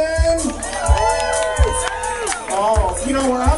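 A live crowd at a contestant introduction show cheers and whoops loudly, with a booming, echoing announcer voice over it and rhythmic low thumps underneath.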